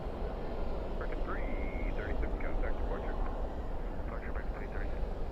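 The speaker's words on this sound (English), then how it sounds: "Spoilers up, reversers out." At night at Dallas/Fort Worth International Airport, an airliner lands with spoilers up and thrust reversers deployed, a steady distant engine roar under faint engine whine.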